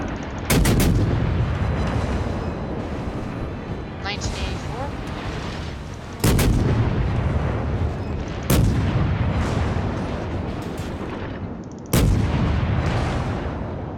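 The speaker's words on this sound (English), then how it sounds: "Pummeling him with AP rounds." Warship guns fire armor-piercing rounds in World of Warships, with four heavy booming salvos spaced a few seconds apart, each leaving a long rumbling tail over continuous battle noise.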